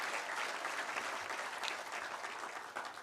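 An audience at a town hall event applauds itself with a steady, dense round of clapping that holds at an even level throughout.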